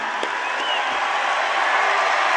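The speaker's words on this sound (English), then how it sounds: "The whole place, we're going to clap as you leave." A rally crowd at a President Trump event in Tempe, Arizona claps steadily as a guest leaves the stage, a dense, sustained wash of applause throughout.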